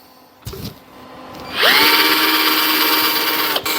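An old drill press bores a hole in thick cast iron, a steady high grinding whine starting abruptly after a few faint knocks and continuing evenly under a motor hum.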